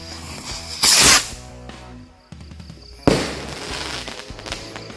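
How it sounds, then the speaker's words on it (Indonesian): A jumbo rocket firecracker (mercon roket) set off at night, giving a loud whooshing burst of launch followed by a second sharp blast, with crackling noise trailing between and after the two bursts. "Lanjut kita sumet mercon roket jumbo."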